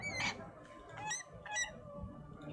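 Repeated honking goose-like bird calls in the video game Thronebreaker, several close, loud squawks in a row against a low background hum.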